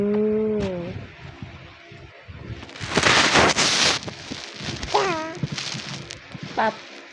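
A drawn-out moo-like call opens, probably a voice or toy imitating a cow, followed by livelier talk and a few short rising vocal sounds, with light wind rustle in the background.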